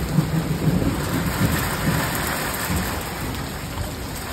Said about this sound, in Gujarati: હવે ચલો વરસાદ આવ્યો